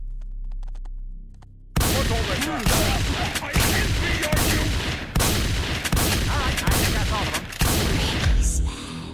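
Dense video game gunfire, a loud near burst of rapid shots sustained for several seconds after a quiet start, with brief pauses between volleys.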